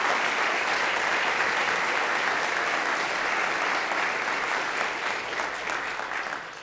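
A university audience at a state-of-the-university address gives a round of applause for a Distinguished Faculty Award, dense and loud, continuing steadily for several seconds before easing slightly at the end.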